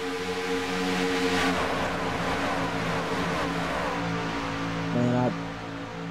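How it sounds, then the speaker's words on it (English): Several race trucks roar past the start-finish line at Daytona in a racing game, a dense layered engine drone that swells loud and sustained, with a brief higher whine near the end and a short spoken word over it. "Love hearing them trucks get around the track right there. I just really love the engine sounds"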